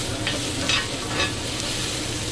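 Onions fry in a pan, a loud, constant sizzle with brief soft stirring scrapes, steady and close with no talk.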